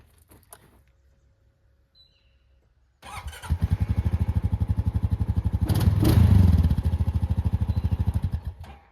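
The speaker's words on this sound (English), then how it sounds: "Now we will start up the 21 Honda." A 2021 Honda ATV engine cranks and fires after a few seconds of quiet, then settles into a loud, close, steady idle with a brief rev in the middle.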